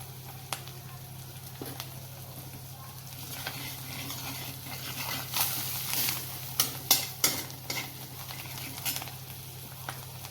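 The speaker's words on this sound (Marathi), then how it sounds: "छान परतून घेऊया वाटण" A ground spice paste for a Maharashtrian matar gobi bhaji sautés in a pan with a soft, steady sizzle and scattered stirring scrapes, louder toward the end over a low hum.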